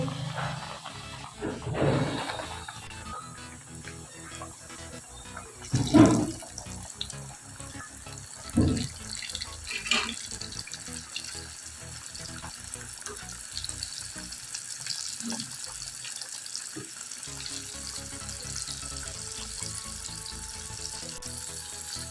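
Chicken drumsticks for a KFC-style fried chicken dropped into hot oil on a stove, giving a steady broadband sizzle throughout with a few louder splashes and crackles near the start, close and fairly loud with no talking.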